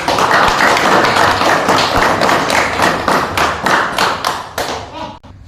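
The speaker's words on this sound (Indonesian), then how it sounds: "Tepuk tangan untuk." A classroom audience applauds loudly, many hands clapping in a dense burst that thins out and fades toward the end.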